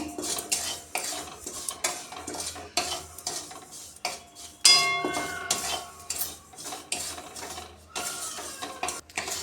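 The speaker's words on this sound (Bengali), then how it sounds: "এবার এর মধ্যে আমি সুজিটাকে একটু নেড়ে নেব।" Semolina being stirred in a hot pan for carrot sandesh: a spoon repeatedly scrapes and clinks against the metal in an irregular rhythm, close and fairly loud, with no speech.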